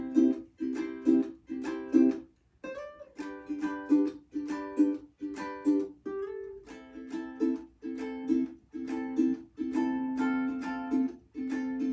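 A ukulele strums the chords of a song in a steady, repeating rhythmic pattern, with muted chops between bright chords, played close and alone with no voices.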